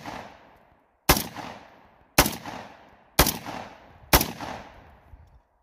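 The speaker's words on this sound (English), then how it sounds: "We shoot some buckshot" Silver Eagle shotgun firing buckshot, four loud close shots spaced about a second apart, each a sharp blast trailing into a brief echo.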